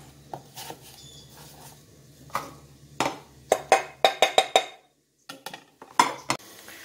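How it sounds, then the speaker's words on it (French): A knife dicing peeled apples into fine brunoise on a cutting board, a series of crisp sharp chops in quick bursts separated by short pauses, close and clear with no voices. "J'ai épluché mes pommes et je les détaille maintenant en brunoise"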